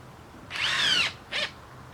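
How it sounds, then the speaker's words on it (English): A power drill drives 1 5/8-inch screws through a rubber deck panel into the back of wooden deck boards, one close whirring burst of about half a second followed by a shorter second burst. "use 1 5/8" screws for deck boards, screwing through the rubber and into the back of the wood"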